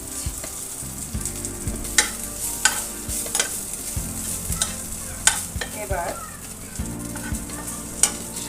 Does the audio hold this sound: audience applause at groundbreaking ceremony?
no